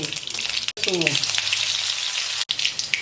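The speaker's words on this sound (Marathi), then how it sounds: "तेल गरम झाले मोहरी घालू" Close crackling sizzle of mustard seeds popping in hot oil in a kadhai, dense and continuous, with a couple of abrupt cut points.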